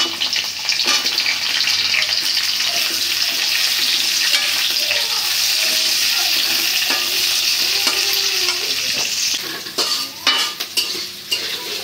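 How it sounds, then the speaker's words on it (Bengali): Potatoes frying with onion in a pan, a steady loud sizzle with stirring scrapes throughout, easing and turning more broken near the end. "আলুটা সেজন্য আমি একটু পেঁয়াজের সাথে ভাজা দিব, যাতে তাড়াতাড়ি সেদ্ধ হয়ে যায়"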